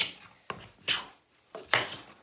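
Three separate strokes of a hand plane shaving wood, each a short breathy swish with a soft scrape, spaced by brief pauses.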